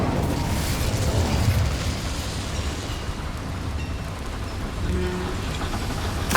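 A fire spell cast in the video game Hogwarts Legacy gives a dense, rumbling roar with crackling hiss that holds steady for several seconds, swelling slightly near the start and again near the end.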